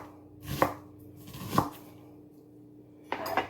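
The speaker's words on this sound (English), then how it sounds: "So nice thin slices of onion." Three crisp knife chops through an onion on a cutting board, spaced about a second apart with a longer pause before the last, close and clear with no talking.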